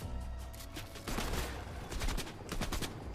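Rapid gunfire in a Fortnite match, dense crackling bursts of shots layered with game effects, continuous and moderately loud throughout with no speech.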